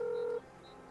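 A phone in the game Accident dials the emergency number 112 in Poland: one steady keypad tone for under half a second, then near silence.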